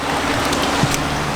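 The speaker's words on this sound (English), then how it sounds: "It's raining. It's cold." Steady rain falling outdoors on a cold day, a dense even hiss with faint scattered drop taps, fairly loud and continuous over a short stretch with no talking.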